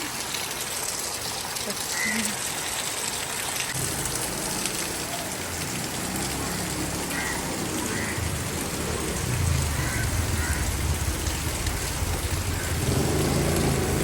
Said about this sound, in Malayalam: കിണറ് തൈക്കൊണ്ടിരുന്നപ്പോൾ അട മഴ പെയ്തു കനത്ത മഴയാണ്